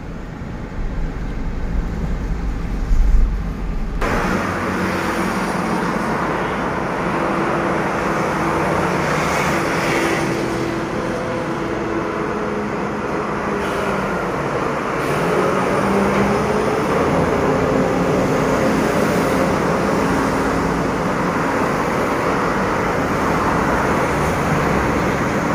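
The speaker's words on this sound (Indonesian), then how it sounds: "inilah dia sepanjang perjalanan mobil crane 800 ton" An 800-ton XCMG XCA 800 mobile crane rolling slowly along a road amid traffic, giving a steady, broad engine and tyre roar that holds at a constant level throughout, with a brief low rumble near the start.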